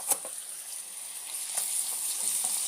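Chicken livers dropped onto softened onions in a pan give a steady, moderately quiet frying sizzle with a few soft clicks of contact near the start, and no talking.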